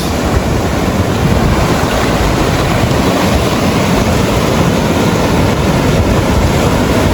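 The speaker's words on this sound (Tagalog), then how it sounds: "lakas na alon guys" Loud, continuous roar of heavy ocean surf crashing nearby at a lagoon resort in Bani, Pangasinan, broad rushing noise with wind buffeting the microphone and no talking.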